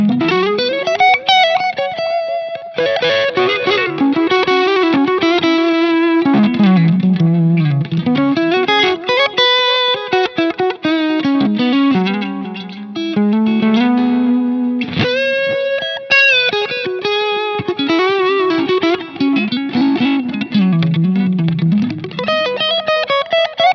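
Electric guitar played on the neck pickup through a Line 6 Helix patch, a loud, sustained distorted melodic line with chorus-like shimmer and reverb, playing alone without talk.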